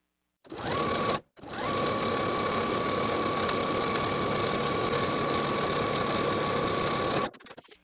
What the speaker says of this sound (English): we're going to sew close to the finishing stitches all the way around the bottom of the ruffle